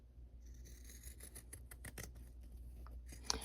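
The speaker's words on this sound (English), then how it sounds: "take our pinking shears, and just give it a good trim." Pinking shears snip through fabric in a quick run of crisp, close cutting clicks, fairly quiet, with no voices.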